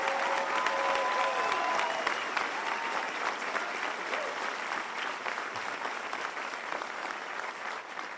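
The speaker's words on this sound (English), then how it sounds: "let's have a big round of applause for our ranger instructors" Spectators at a U.S. Army Ranger School graduation ceremony applaud the ranger instructors, a broad, steady ovation heard from a distance that holds for about eight seconds, with brief voices over the start.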